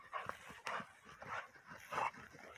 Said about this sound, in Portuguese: Esse cachorro aí mais mordeu bem, galera.